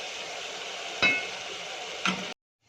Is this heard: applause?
no